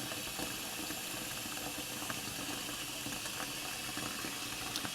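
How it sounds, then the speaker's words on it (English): Tap water pouring steadily into a pot in a home kitchen, a constant broadband rush and splash that stays even and fairly close throughout, with no voices. "I'm going to just put that in cold water."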